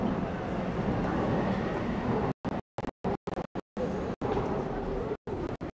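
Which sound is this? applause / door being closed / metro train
metro train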